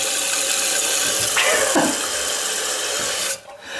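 Water rushes fast under pressure into a toilet tank, a loud, close, steady hiss and gush that holds for several seconds before suddenly dropping off near the end.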